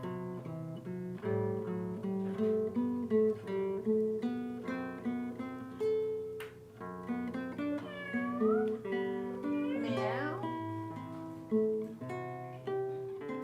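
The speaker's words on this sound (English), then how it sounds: "Meow. Yeah, meow. Meow." A cat meows repeatedly over a steady musical background, its cries rising and falling at close range and fairly soft.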